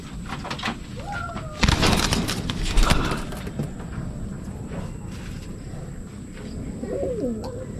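A racing pigeon coos softly nearby, with a few low throaty calls, brief wing flutters and a couple of knocks in the middle.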